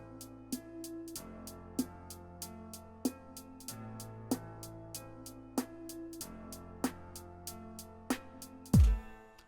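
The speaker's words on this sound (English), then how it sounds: "take this down and take that up gradually and then have it play all the way open right here, we'll be able to filter in the snare." A programmed hip hop beat in FL Studio, its snare faded in through a filter automation clip, with sharp hits landing in a steady rhythm over sustained bass and pads; a heavier, louder hit closes the pattern near the end.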